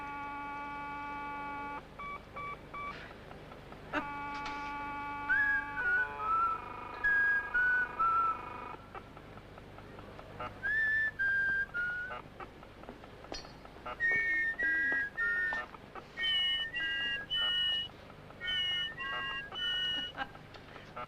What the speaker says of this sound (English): You know how to whistle, don't you?